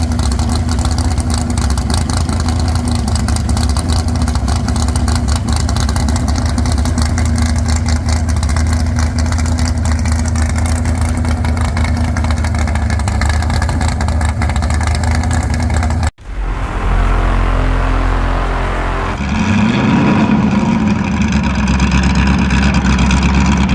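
A presidential limousine engine runs at a steady, loud idle, cuts out abruptly, then fires back up and settles into a rumbling idle again.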